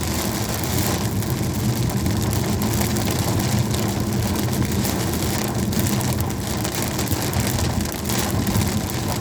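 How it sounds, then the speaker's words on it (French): Heavy rain pours steadily during a thunderstorm in Normandy, a dense continuous hiss and drumming with vehicle rumble underneath and no break throughout. "Beaucoup de pluie."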